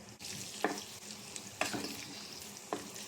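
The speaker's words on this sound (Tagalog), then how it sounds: "Prito muna natin ng konti yung luya." A steady sizzle of ginger frying in a pan, with a few clinks of a utensil stirring at irregular intervals.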